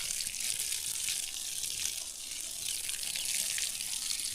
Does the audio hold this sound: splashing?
yes